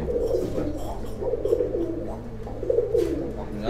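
Pigeons coo steadily in a fancier's loft, a dense overlapping chorus of low throaty coos close by, with no talk.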